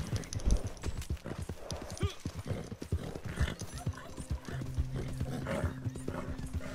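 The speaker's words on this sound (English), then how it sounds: "Run, horsey, run!" Rapid rhythmic hoofbeats of a galloping horse in the video game Red Dead Online, close and steady, with a brief whinny and a low voice murmuring underneath.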